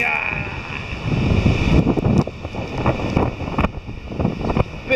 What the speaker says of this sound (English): Big old waves coming in.